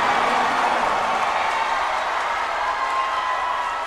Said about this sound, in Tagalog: listen to the crowd roar as Matnog takes a 4-point lead